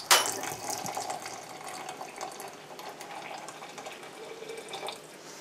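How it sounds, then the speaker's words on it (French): Water poured into a teapot for Moroccan mint tea, a close trickling splash of liquid that starts strongly and continues more softly. "on a versé l'eau"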